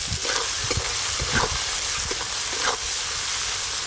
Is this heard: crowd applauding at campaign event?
no